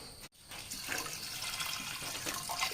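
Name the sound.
water poured into pot of lentil curry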